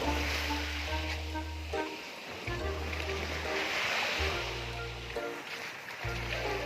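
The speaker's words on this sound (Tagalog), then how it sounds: "Kaanindot sa dagat" Sea waves wash steadily onto the shore in Bohol, a continuous broad surf roar with a low engine-like hum underneath and faint voices.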